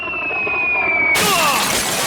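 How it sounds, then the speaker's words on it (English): Glass shatters in a loud sudden burst after a rising whine, as a sound effect in an audio adventure drama, the crash ringing out alone. "Shatter!"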